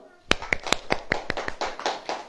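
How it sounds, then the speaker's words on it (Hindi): A few people clap in a loose, uneven burst of sharp slaps, close by, lasting about two seconds. "ताली बजाओ।"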